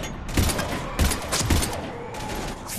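Rapid bursts of sci-fi gunfire from the video game Mass Effect 3 during combat, with three loud volleys at roughly half-second spacing over steady battle noise.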